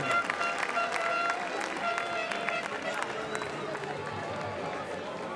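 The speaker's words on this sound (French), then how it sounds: "Allez, on peut applaudir très fort ces deux équipes." A crowd applauds the two teams at a canoe polo world championship women's semi-final, steady close clapping lasting the whole stretch, with an announcer's voice faintly mixed in.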